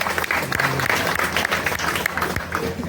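A crowd claps and applauds steadily for a few seconds, dense and continuous, with faint voices mixed in.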